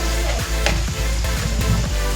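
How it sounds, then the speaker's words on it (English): Carrots for Filipino spaghetti are stirred in a hot pan over low heat, with steady sizzling under soft, repeated scraping strokes of the spoon, close and fairly loud. "Mix it a little bit."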